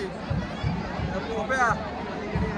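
Dense crowd hubbub at the Team India T20 World Cup victory parade, steady overlapping chatter and cheering voices all around, with occasional nearby voices rising above the din.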